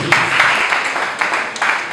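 Brief, scattered clapping from a crowd, moderately loud and close, lasting about two seconds.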